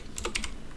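Four quick, light keystrokes on a computer keyboard tap out a short word of code, close and crisp against a quiet room hum.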